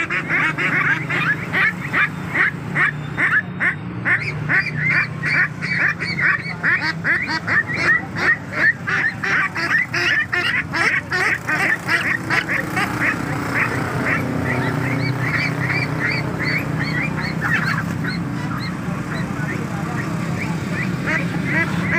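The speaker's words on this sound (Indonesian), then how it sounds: "Bebek muda umur 3 bulan." A crowd of three-month-old ducks quacks continuously in rapid, overlapping bursts at a traditional market, close and loud, with some background noise.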